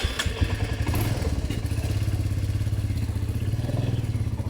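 A loaded touring motorcycle pulls away, its engine chugging in a steady, loud, close rhythm with some clatter from the ride and no speech.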